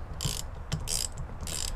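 A hand ratchet tightens a bolt while installing a transmission cooler on a Lexus GX460: three quick bursts of rapid clicking, close and crisp, separated by short pauses, with no talking.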